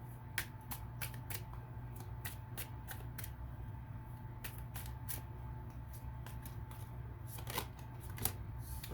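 Tarot cards being shuffled by hand, with steady soft riffling and a scatter of sharp card snaps over a low constant background hum.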